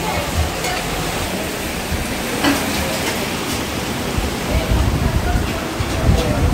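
Torrential rain pours down outside in a dense, steady roar that fills the whole stretch with a broad hiss and a rumble.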